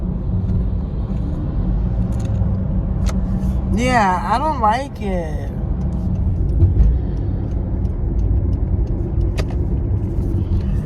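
Tall cars drive past on a road in a continuous low rumble of passing traffic, one vehicle swelling briefly louder midway, while a person talks nearby.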